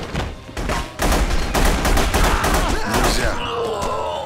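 Heavy gunfire from the video game The Punisher, loud rapid bursts and sharp shots hammering almost continuously, with a groaning voice and game sounds mixed in.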